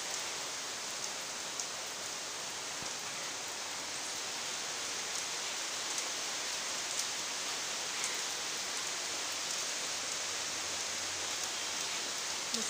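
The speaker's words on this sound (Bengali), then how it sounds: "মুষলধারে বৃষ্টি পড়ছে" Heavy pouring rain falls steadily outside, a dense, even hiss with scattered drop impacts continuing without pause and no voices.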